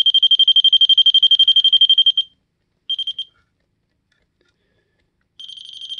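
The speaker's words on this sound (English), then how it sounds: "if I hold down this, that constant beep shows you that the voltage is good" A LightKeeper Pro light tester gives a rapid string of sharp, high beeps for about two seconds, then a brief burst after a pause, and another run starting near the end. The beeps are close and loud with no speech.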